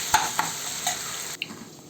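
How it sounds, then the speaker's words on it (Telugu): Ridge gourd, green chillies and tomatoes being stirred and fried in oil for chutney, a steady sizzle with a few sharp scrapes of a spoon against the pan. "వేయించేటప్పుడు ఇలా తిప్పుకుంటూ ఉండాలండి"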